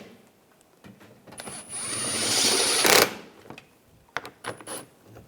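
Power tool drives screws into the front bumper molding of a 2013-2016 Dodge Dart, a rising whir lasting about two seconds up close, followed by scattered clicks and handling noises.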